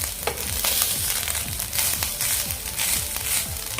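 Coconut masala dry-roasting in an iron wok, a steady close sizzle and crackle with a recurring scrape of stirring every half second or so, no voices.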